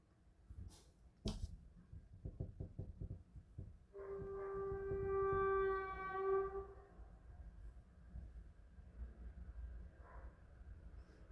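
A train horn sounds a long sustained blast over a low rumble of trains passing on a nearby railway line, preceded by a few sharp clunks, moderately distant.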